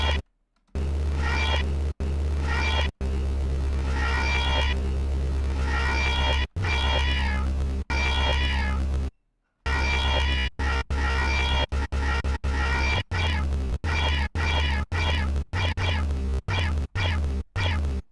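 A synthesized, electronic-sounding cat meow repeats continuously in loud, harmonic bursts with brief gaps between them.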